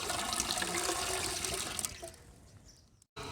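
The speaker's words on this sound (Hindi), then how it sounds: "पतीले में आपने सबसे पहले डालना है पानी।" Water pours from a steady stream into a cooking pot for traditional Punjabi jaggery rice, a close, continuous splashing rush that tapers off and fades to near quiet.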